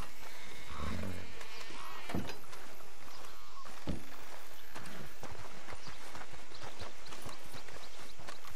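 A horse's hooves clop and slow to a halt as the rider reins in, in the Western video game Red Dead Redemption 2, with a few loud thuds and rustling around the steps and no talking.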